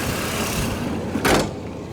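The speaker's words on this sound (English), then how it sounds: "Now we'll go ahead and shut the hood here." The hood of a 1996 Chevrolet Blazer LS slams shut in a single short thump, heard alone over low background noise.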